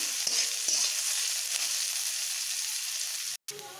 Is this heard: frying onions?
yes